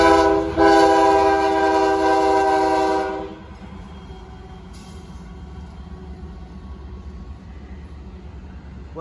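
CSX freight train Q001 led by locomotive CSXT 1 passing, a loud sustained multi-tone horn blast for about three seconds over a rumbling engine, then steady rolling rail noise and wheel rumble continuing after the horn stops.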